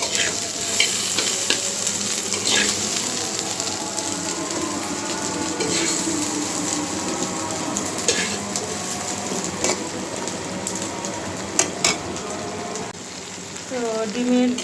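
Masala and potatoes fry in a pan in a home kitchen, giving a steady sizzle with occasional stirring scrapes and clinks of a utensil. No one talks over it.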